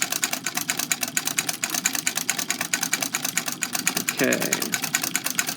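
A Singer 127 lock-stitch sewing machine runs in rapid, even rhythmic clatter of needle strokes, close and loud, with a voice speaking briefly near the end.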